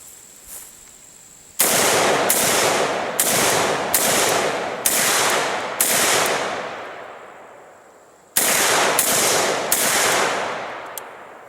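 An M92 PAP Zastava AK47 pistol with a short barrel fires at a target on a box, two bursts of loud, sharp shots in quick rhythm, about six then four, each followed by a ringing decay.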